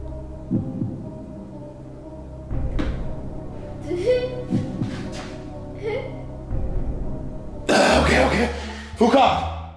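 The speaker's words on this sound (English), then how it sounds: "Who coughed?" A sharp cough bursts out near the end, during a group's breath-holding attempt, following a stretch of low murmuring and humming with a steady background hum.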